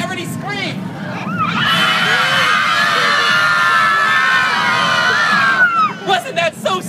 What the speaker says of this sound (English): And ready, set, everybody scream!